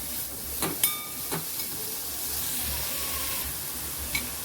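Pumpkin pieces in a hot pan sizzle and hiss steadily, with a few sharp clinks of a utensil against the pan.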